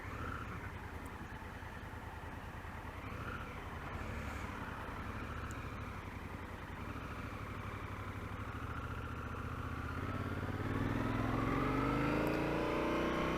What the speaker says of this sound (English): Now this is the first time I'm riding an automatic clutch motorcycle.